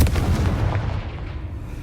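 Confringo fire spell blasting in Hogwarts Legacy, a loud, dense booming burst with heavy low rumble that keeps rolling and crackling for the full stretch without a pause.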